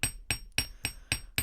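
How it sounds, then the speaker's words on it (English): A wire-wrapped hoop with 2 mm faceted gemstones is hammered in six sharp, evenly spaced taps, close and crisp, each a bright metallic strike with a short ring, with no talk. "Now I'll go ahead and hammer it."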